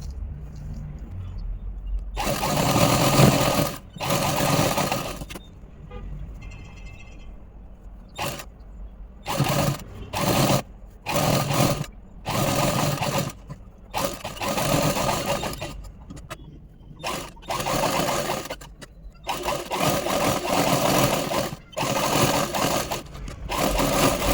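A sewing machine stitching puff sleeves, running in repeated bursts of steady mechanical whirring and clatter, some long and some short, with quiet gaps between them, close and loud.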